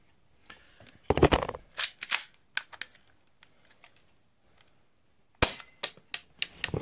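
A clear-bodied, spring-powered airsoft Glock 17 pistol by Blackviper fires pellets in sharp, dry snaps, several distinct shots with clicks of handling between them, quiet and close.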